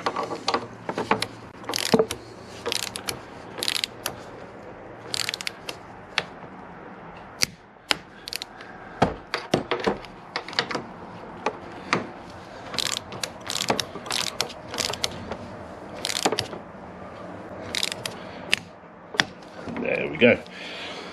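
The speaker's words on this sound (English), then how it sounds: "And torque wrench, 23 newton meters." A torque wrench ratchets as motorcycle top yoke bolts are tightened to 23 newton meters on a Honda VFR800 VTEC, giving repeated sharp clicking bursts in irregular groups, close and clear, with someone speaking between them.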